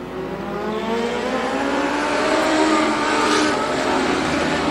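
A field of 26 dwarf cars and Mod Lights races at a speedway, with a loud, steady roar of engines sustained throughout.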